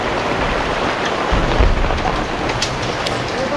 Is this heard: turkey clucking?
no